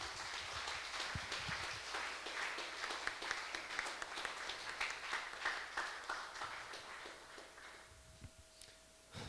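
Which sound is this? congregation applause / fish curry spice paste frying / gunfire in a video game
congregation applause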